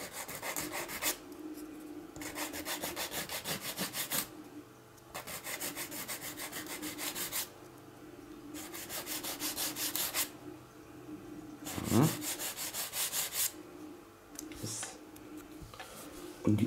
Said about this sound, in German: wieder schleifen